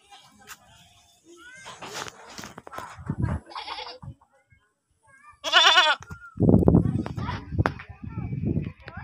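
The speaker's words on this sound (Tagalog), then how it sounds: "Kambing." Goats on a mountain farm bleating several times in loud, wavering calls, mixed with nearby human voices and some handling noise.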